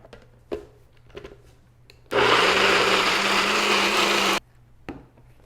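A blender runs at full power for about two seconds, mixing vegan pumpkin cake batter made without sugar, eggs or dairy, loud and steady. Quiet kitchen knocks and clatter come before and after it.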